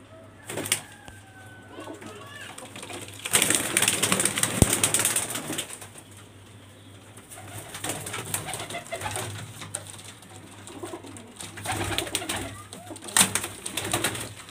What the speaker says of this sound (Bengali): এটা হচ্ছে ফিমেল পায়রা